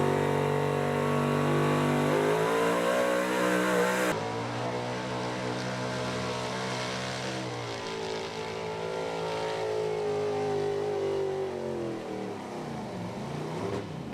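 A big block 4x4 pulling truck roars at launch at a Fishersville, Virginia truck pull, its engine holding a loud sustained rev that shifts pitch as it climbs and drops through the run, with no talk over it.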